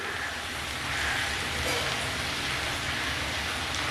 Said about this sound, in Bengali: যতক্ষণ ঝিঙেগুলো একটু নরম না হয় ততক্ষণ আমি মিনিট 5-7 ধরে একটু ভেজে নিচ্ছি